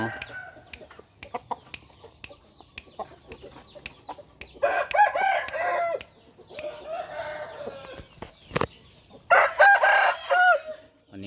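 A fighting rooster from Chiang Mai crows three times at close range, each call long and loud, with quiet clicks and handling noises in the gaps between crows.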